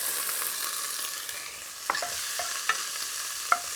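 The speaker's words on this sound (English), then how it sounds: "now I'm going to fry the heads and the shells until they're a really red colour" Prawn heads and shells frying in a little vegetable oil in a very hot pot for laksa, with a continuous close sizzle and a few sharp clicks and scrapes from stirring, no voices.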